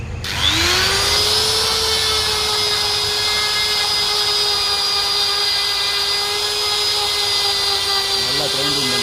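A tube vulcanizing machine's grinder works the neck of a damaged inner-tube valve, a steady high whine that starts abruptly and runs loud and continuous for the whole stretch, with a faint clatter near the end.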